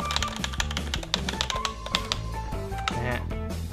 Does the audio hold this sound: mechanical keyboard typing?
yes